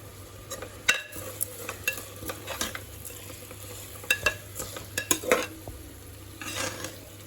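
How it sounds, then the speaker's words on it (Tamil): Mutton biryani mixture is stirred in a pot, with repeated scraping and clacking strokes of a spoon against the metal over a low sizzle, close up, no voices. "இப்போது இது நல்லா மிக்ஸ் பண்ணணும்"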